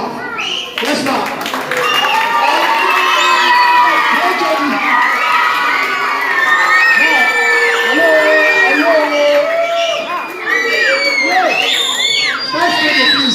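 Students at a high school in Ibadan, Oyo State, scream, whoop and cheer in a loud, sustained crowd roar, with children's shrill shouts and some clapping mixed in throughout.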